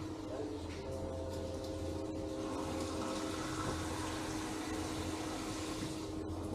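Water poured into a pot of kacang pool, a mashed bean stew, makes a steady, close, continuous splashing and rushing that holds evenly throughout.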